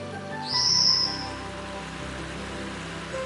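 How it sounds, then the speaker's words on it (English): A single high, sharp whistled call of a Formosan whistling thrush, clear and fairly near, over a quiet background hum, in Basian Mountain National Forest Recreation Area. "the Formosan whistling thrush calling in its distinctive high,"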